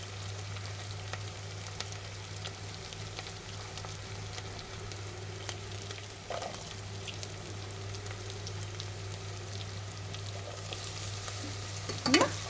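Carrot, beetroot and tomato stirred and frying in a pan, a steady soft sizzle with occasional scraping clinks, louder stir noises near the end, no talking.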